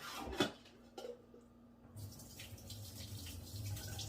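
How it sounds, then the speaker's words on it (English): Water poured off boiled potatoes splashes and trickles steadily with a low rushing hiss, following a couple of brief clanks near the start. "Pour all that water off your potatoes."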